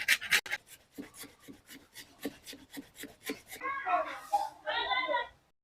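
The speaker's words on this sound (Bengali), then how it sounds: "এই আদাটা নিয়েছি, এটা আমি ঘষে নেব" Fresh ginger is rubbed against a grater for dhokla batter, giving about a dozen quick, rhythmic rasping strokes close by. Clattering and a voice follow near the end.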